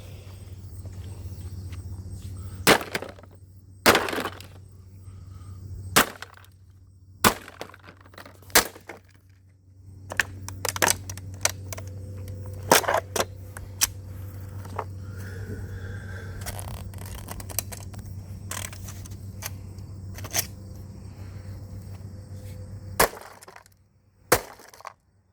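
A Dirt Devil Powermax XL vacuum being smashed with a sledgehammer: a series of sharp plastic cracks and crunching impacts, spaced irregularly over a low steady hum, some blows sounding heavier and more scraping than others.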